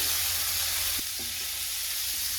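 Vegetables salted for soy chunk Manchurian fry in a pan with a loud, steady sizzle throughout. A couple of soft stirring knocks sound close by, and no one speaks.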